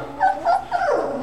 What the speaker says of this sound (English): they'll just bark and bark and bark, telling the whole world